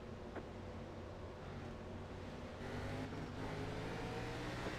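A pace car engine drones steadily at a distance on a race track in Las Vegas, a low continuous hum that swells slightly partway through, with no voices.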